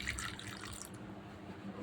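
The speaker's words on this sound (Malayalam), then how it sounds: "ചിക്കൻ്റെ പുഴുങ്ങിയ വെള്ളം തന്നെ ഒഴിക്കണത് നല്ലത്" Boiled chicken stock is poured into a masala mixture during home cooking, a soft, steady trickle of liquid that is quiet and brief, with no talk over it.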